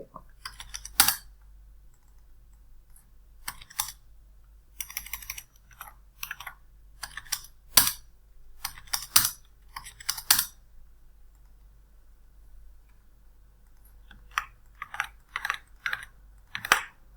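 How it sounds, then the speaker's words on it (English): Keys tapped on a computer keyboard to enter a serial number, coming as irregular bursts of close, crisp clicks separated by short pauses, with no talking. "And then type the serial number here."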